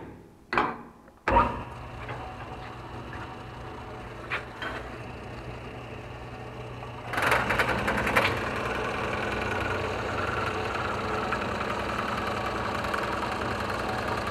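A metalworking machine forming the pickup bed floor for a Fiat 147: a few sharp metallic clanks at first, then a steady mechanical hum that grows louder and rougher midway and keeps running evenly, with no talk.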